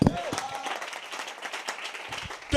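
A church congregation claps and cheers during a lively service, crowded applause mixed with excited voices and shouts, rising and falling over a few seconds.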